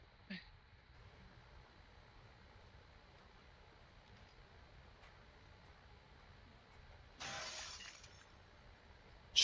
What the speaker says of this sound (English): Should probably not go around smashing windows in Zombo Land.